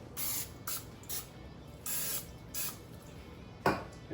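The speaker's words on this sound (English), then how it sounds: "Spray the butter." Butter spray misted onto a meatloaf on a Pit Boss Austin XL smoker, heard as several short hissing bursts of varying length separated by pauses, close and fairly soft.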